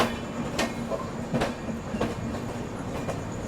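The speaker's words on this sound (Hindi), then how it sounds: "सिलीगुड़ी शेड का डीजल लोकोमोटिव WDG4" A train hauled by a Siliguri shed WDG4 diesel locomotive rolls past with a steady rumble and rhythmic clickety-clack wheel beats over the rail joints, accompanied by a faint squeal.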